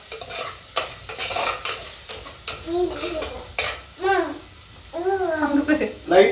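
Onions sizzle in a hot pan while a spoon stirs and scrapes them, with rhythmic clinks against the metal, close up, as a voice talks intermittently over the frying.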